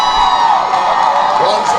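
Spectators at a local cricket final in Liberta cheer and whoop together, a loud, brief swell of mixed shouting voices filling the space.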